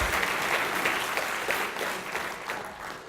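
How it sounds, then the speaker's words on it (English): Steady clapping from a conference audience at a security talk on SQL injection, a continuous patter of many hands at moderate distance that carries on for several seconds without a break. "go ahead, Juan, clap. Keep clapping"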